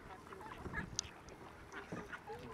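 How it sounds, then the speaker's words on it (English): Geese at Miramar Reservoir in San Diego give a few faint, scattered honks amid outdoor background noise, with people talking quietly nearby. "I think that's one of the geese."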